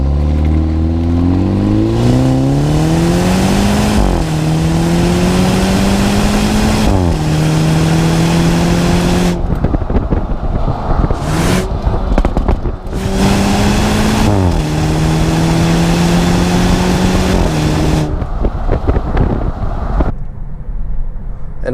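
A 2017 BMW 430i four-cylinder engine revs up repeatedly through rising gear pulls, its drone climbing in pitch, dropping at each shift, then climbing again, loud and close with wind rush and no talking.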